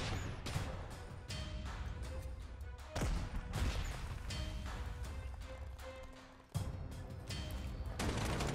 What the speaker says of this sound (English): Okay, some strategic bombing.